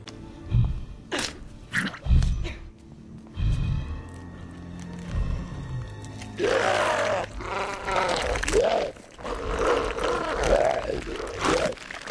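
Sheep bleat repeatedly in a horror video game, a series of wavering, strained cries over low rumbling ambience and scattered thuds, growing denser and louder in the second half.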